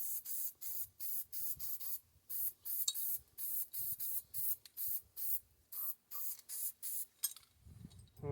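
A cheap $1.50 Walmart can of spray paint hisses in a series of short, evenly spaced bursts while traps are coated. The bursts are quiet and close, with brief pauses between them.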